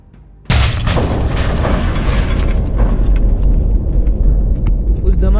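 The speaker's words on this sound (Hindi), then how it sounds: "और फिर होता है एक बहुत बड़ा धमाका।" An atomic bomb explosion over a Japanese city bursts in suddenly after a quiet moment, a loud, deep roaring blast that keeps rumbling on with a sustained, heavy boom and no voices.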